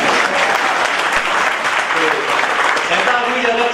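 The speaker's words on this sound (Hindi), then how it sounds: "ताली भी बजाओ।" A university hall audience in Meerut breaks into loud, dense applause that holds steady throughout, a thick roar of many hands with faint voices mixed in.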